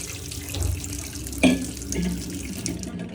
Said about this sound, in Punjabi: ਲੈ ਭਾਈ ਪਾਣੀ ਦੀ ਬੋਤਲ ਭਰਨੀ ਪੈਣੀ ਹੈ